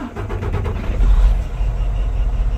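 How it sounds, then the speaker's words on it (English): A semi truck's diesel engine cranks with a rapid starter rhythm, catches and settles into a loud, close, rumbling idle. "so now we're gonna start the truck"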